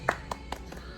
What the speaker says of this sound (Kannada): ಚಪ್ಪಳೆ ಹೊಡಿ.